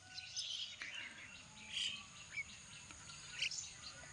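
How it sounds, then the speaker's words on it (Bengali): Faint, distant morning birdsong with doves about, scattered high chirps and short calls over quiet outdoor ambience. "মানে ঘুঘু পাখির কিচিমিচি ডাক"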